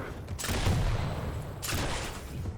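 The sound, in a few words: railgun and weapon fire in a video game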